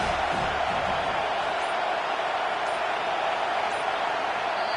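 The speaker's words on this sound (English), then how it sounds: "Decibels rising as the crowd gets behind this defense on 3rd down." Stadium crowd noise in an American football video game on third down, a dense, steady roar of a large crowd filling the space, holding constant and loud for several seconds with no distinct voices.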